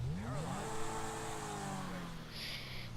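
A car in GTA Online starts up with a rising engine whine that sweeps upward and settles into a wavering idle, fairly close, while faint background sounds sit underneath.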